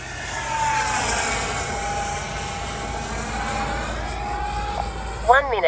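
An RC L-39 model jet with no landing gear flies past steadily, a continuous whining drone holding at moderate level, with a brief rising swoosh near the end; no talking.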